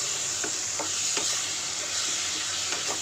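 Turmeric stirred into tomatoes frying in a pan for sambar, a steady close sizzle with intermittent scraping taps of the spoon against the pan.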